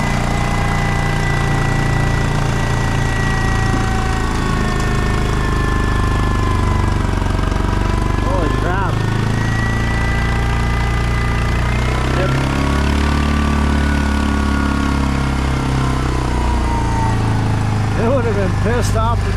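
A Predator 670 engine with a governor bypass, mounted on a tracked vehicle running Trackster tracks, revs and idles with a steady buzzing drone that surges in pitch a few times, loud and near throughout.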